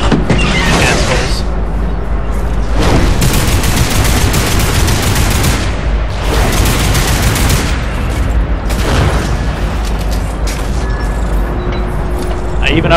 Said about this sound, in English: Oh no, they're firing at me.